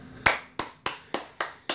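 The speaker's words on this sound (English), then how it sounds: "round of applause, everybody" Six sharp claps ring out at a steady, slightly slow pace, each a crisp near hand strike with a quick decay, offered as a round of applause at a children's first-day-of-school play session.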